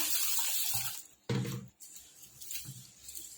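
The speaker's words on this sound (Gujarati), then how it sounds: "सारी रीते धोई लेवाना। आ सफेद पानी निकળી जाए ने त्यां सुधीने आपणे धोवाना छे चोखाने।" Rice and moong dal being washed by hand in water in a bowl, with splashing and swishing in uneven bursts, close and moderately loud, with no talk.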